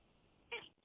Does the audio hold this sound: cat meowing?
yes